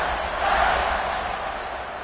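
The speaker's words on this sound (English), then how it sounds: "this crowd is buzzing after that last score" Football stadium crowd buzzing after a score, a dense, steady roar of many voices at moderate loudness, swelling slightly midway and holding for about two seconds.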